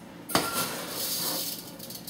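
Dry sushi rice poured into a 5-ply cooking pot, a sharp initial clatter followed by a sustained grainy rattling hiss of grains settling, moderately loud with no talking.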